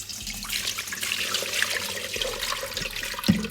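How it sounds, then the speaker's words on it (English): Water pours from a tap or container into an Instant Pot, a steady splashing stream that gently rises and falls for a few seconds, ending with a small clunk, heard alone with no talking. "You're going to put some water in here,"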